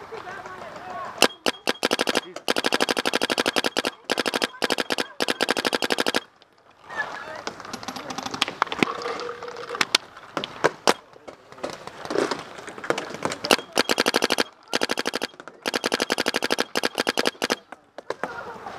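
Paintball markers fire in rapid bursts during an outdoor paintball game, sharp repeated pops coming in dense volleys with brief pauses, while players shout nearby.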